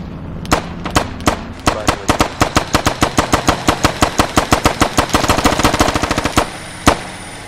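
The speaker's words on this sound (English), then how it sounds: "Somebody here shooting at us." Automatic gunfire in the Squad video game on the Chora Valley map, a loud, rapid burst of evenly spaced shots running for several seconds before slowing to a couple of final cracks.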